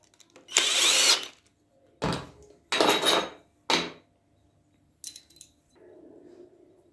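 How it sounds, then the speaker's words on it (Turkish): A power drill drives screws into the hinges of a washing machine cabinet, giving three or four short, loud whirring bursts separated by brief pauses, with lighter clicks and handling noise between them. "şu şekilde yerine oturtup şu vidayı sıkıyoruz"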